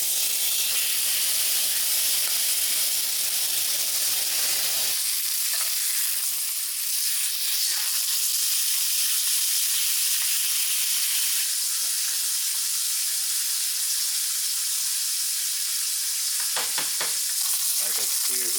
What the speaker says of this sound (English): let's get a little sear action on this steak